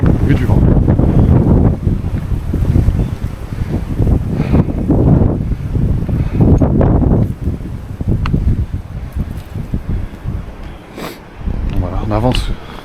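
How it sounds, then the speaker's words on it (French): Strong wind buffets the microphone outdoors in the French Pre-Alps, a loud, continuous roar with gusts rising and easing, while a person talks over it. "là vous êtes au milieu du vent."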